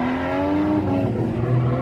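A Nissan S13 drift car at a drift event, its engine howling at high revs with rising and falling pitch as the tires squeal through a slide, loud and close.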